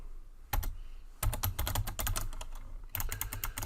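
Rapid typing on a computer keyboard while HTML code is written, with dense clusters of clicking keystrokes that arrive in bursts separated by short pauses, heard close and clear with no voices.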